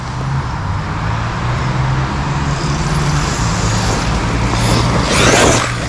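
An Arrma Kraton 8S EXB RC car runs at low throttle with a steady, fairly loud motor hum and rumble. A brief higher whine rises near the end.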